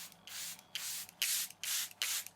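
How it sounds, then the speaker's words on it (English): Setting spray from a makeup mist bottle is sprayed onto a face in four or five close, soft hissing bursts, evenly spaced, with brief pauses between them. "Quick thing we're going to do before we actually set is apply our setting spray again"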